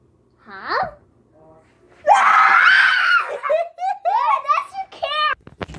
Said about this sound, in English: He didn't scream as much as I thought he would.